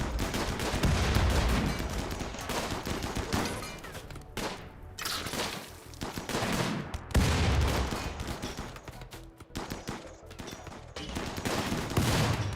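Rapid, sustained gunfire in a shooter video game, dense overlapping bursts and volleys that keep coming with only brief lulls.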